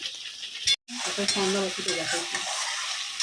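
Parshe fish with brinjal sautéing in hot oil for a curry, a steady close sizzle with stirring scrapes after a brief cut of silence near the start, no talking.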